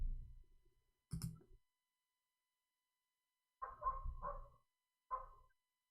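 Dogs bark in short separate bursts, a single bark early and then a cluster of two or three and another one later, fairly faint and set against silence between them.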